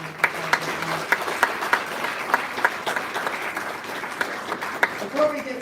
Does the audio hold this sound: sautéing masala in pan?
no